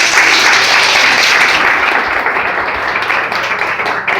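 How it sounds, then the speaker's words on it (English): An audience at a talk event on autism with a bakery owner breaks into loud, sustained applause, dense clapping from many hands filling the room and tapering slightly toward the end. "If the Puzzles family is here, let's give them a round of applause."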